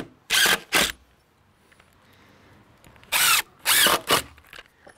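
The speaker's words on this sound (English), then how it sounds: "Now I'm screwing at these two different points here." A power drill drives screws into a wooden deck railing in four loud, close bursts, two near the start and two later, with quiet gaps between and no talking.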